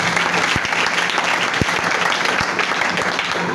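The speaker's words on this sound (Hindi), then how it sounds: "तालियां बजाएं" Church congregation clapping loudly and continuously, a dense, close burst of many hands with a few sharper individual claps standing out, and a faint murmur of crowd voices underneath.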